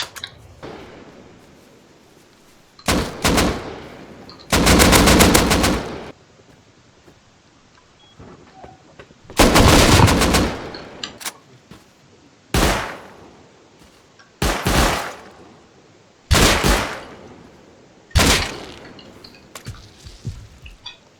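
Gunfire in the video game Rust, heard as loud separate bursts of shots with short gaps of near silence between them and no talk.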